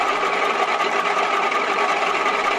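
A milling machine cutter makes a final light control pass over a workpiece marked with marker, shaving an extremely thin layer; a steady, close, continuous whirring grind with no talk.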